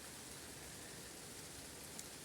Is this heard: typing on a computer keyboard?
no